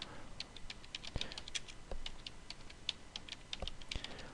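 A search query is typed on a computer keyboard: a fast, uneven run of light key clicks with a few heavier thumps, close and quiet, with no talking.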